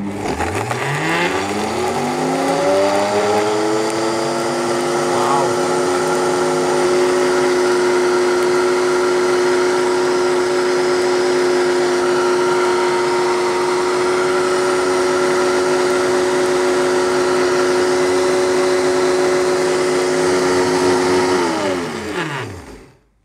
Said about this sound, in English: I'm just gonna see what sort of powder comes out of the machine at all while blending on high speed